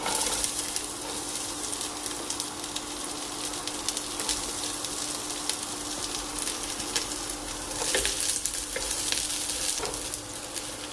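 Chopped ginger and onion sautéing in a pan for chapati egg noodles, a dense, steady sizzle with light stirring scrapes, close and fairly loud throughout.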